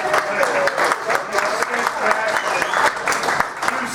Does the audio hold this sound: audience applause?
yes